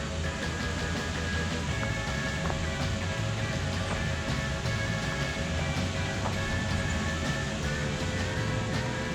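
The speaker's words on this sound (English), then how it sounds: "Hey Vic, go stand under the waterfall" Constant roaring rush of falling water from a waterfall near Cherokee, North Carolina, steady and broadband, close by with no pauses.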